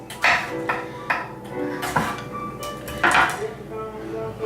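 A knife chops radish on a cutting board, giving a handful of sharp, irregular knocks with a slight ringing clink, close by and moderately loud.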